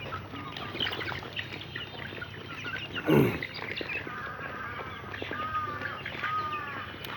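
Black Australorp chickens on a poultry farm cluck and call softly at moderate distance over a constant background hum, with one louder close bump midway.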